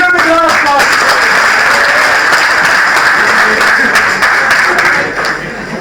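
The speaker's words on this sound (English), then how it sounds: "Give him a big round of applause." Audience clapping at a joint academic-industry event, loud close applause sustained for several seconds before fading, with some voices audible in the crowd.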